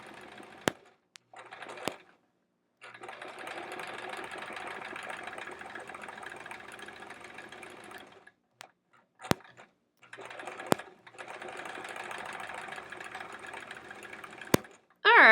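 Two long stretches of a sewing machine running steadily at speed while free-motion quilting decorative stitches on a pineapple quilt-as-you-go block, separated by pauses with clicks and thumps.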